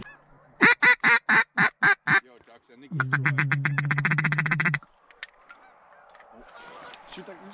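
Rapid series of loud, close quacks and honks from ducks and geese during a goose hunt, first as distinct spaced calls, then a dense buzzing burst, followed by fainter scattered calls and background noise.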